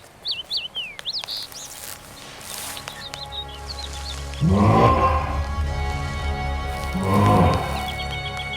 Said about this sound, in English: The giant bird spoke softly.